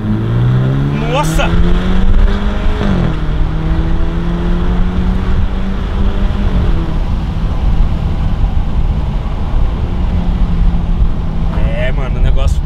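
A 2.0 turbo car accelerates hard with a rising engine note through the gears, loud and close from inside the cabin, while occupants exclaim and talk over it.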